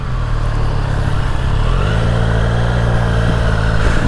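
A Triumph Street Triple 765 RS motorcycle is ridden on a sunny road near Sydney, its engine a loud, steady droning hum that rises slightly in pitch, with wind rush over it.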